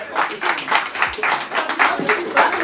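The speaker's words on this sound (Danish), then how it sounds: "Nice, klap for dem." An audience at a Danish convention claps steadily in a dense, even patter of many hands, close and fairly loud, with a few whoops mixed in.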